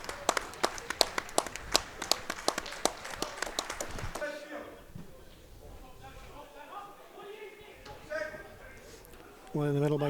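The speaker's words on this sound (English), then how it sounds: "So there'll be a minute's applause for Billy Agnew" Stadium crowd gives a minute's applause for Billy Agnew at a Stranraer versus Elgin City football match, sparse claps ringing out loud at first, then thinning into a low, steady patter with faint murmuring.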